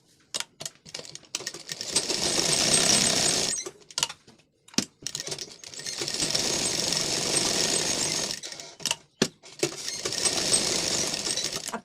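A sewing machine stitches a lined blouse, running in three long, steady whirring bursts. Short pauses and sharp clicks separate the runs, which sound close and fairly loud.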